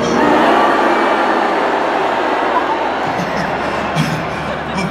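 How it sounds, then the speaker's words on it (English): A huge stadium crowd at a Coldplay Music of the Spheres tour concert boos loudly on cue, a sustained roaring wall of voices that holds steady throughout. "Let's go even louder with the booing."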